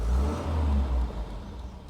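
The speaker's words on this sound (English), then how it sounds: "You can hear the viscous fan." Old Volvo car engine idling with its viscous fan whirring, a steady close mechanical drone with low rumble that eases slightly partway through.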